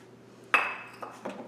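Chickpea mixture going into sautéed mawa in a pan for Surti ghari, a sharp metallic clink of utensil on pan followed by a couple of lighter taps, close and otherwise quiet.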